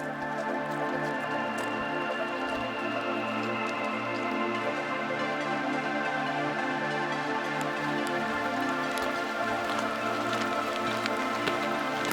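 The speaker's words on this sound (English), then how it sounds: "The rain got stronger and we had to get out our raincoats." Heavy rain pours steadily during a hike beside Lago di Braies, a mountain lake, with a dense, continuous hiss of drops on surfaces and no talk.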